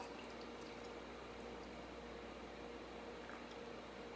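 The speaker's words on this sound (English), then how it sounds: "Let's get a pour here." Beer pours into a glass in a steady, quiet, continuous wash of liquid sound, faint and unbroken throughout with no voices.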